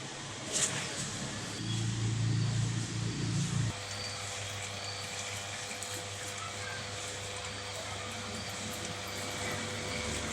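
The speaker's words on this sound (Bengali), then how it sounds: "এবার মেশিন একাই জল নেবে" Whirlpool top-load washing machine filling with water, a steady hiss and hum running continuously, with a louder burst of low whirring in the first few seconds before settling to an even flow.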